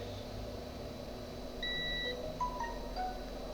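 A multimeter continuity tester on an LG K10 Power phone board being checked for a short gives a few faint, short high beeps. They sit over a steady low hum.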